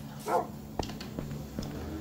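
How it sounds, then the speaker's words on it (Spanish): A tamed Minecraft wolf barks in the video game, a few short faint yips spaced out over a quiet background. "El perrito me gusta, es, es increíble este lobo."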